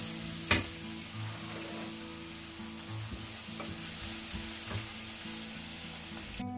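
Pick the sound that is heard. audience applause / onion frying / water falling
onion frying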